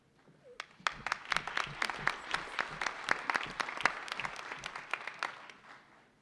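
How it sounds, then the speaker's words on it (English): Audience at an annual town meeting claps steadily, a dense run of sharp individual hand claps building and then thinning toward the end, heard alone without talk. "Okay, we'll stop with the applause there."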